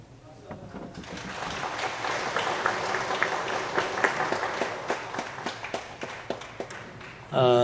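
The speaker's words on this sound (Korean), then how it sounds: "우리 박수를 한번 축복해 주십시오" Congregation in a church service giving a round of applause after an infant baptism, steady clapping building over several seconds at moderate distance, with a sharp louder burst at the very end.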